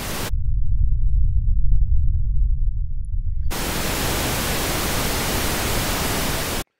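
Pink noise test signal played through a subwoofer: a loud, steady low-frequency hiss-like rumble, then full-range pink noise switches in for a dense, even wash of broadband noise until it cuts off abruptly.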